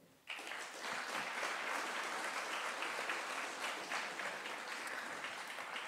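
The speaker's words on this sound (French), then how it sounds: "Et notre invité ce soir, que l'on peut déjà applaudir, David Gurlet" An audience at an evening talk on AI and energy breaks into sustained, even applause for the guest, a dense wash of clapping that starts suddenly and holds steady, moderately distant.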